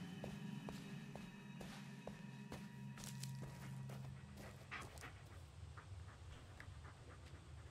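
Dog in the Blair Witch video game panting and pattering along with footsteps through undergrowth, quiet and steady under low game ambience with a few soft clicks.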